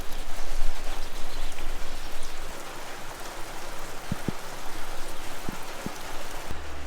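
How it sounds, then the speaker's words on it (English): Heavy rain pours down in a dense, steady hiss, with occasional louder drops striking a nearby surface. "It's raining so hard,"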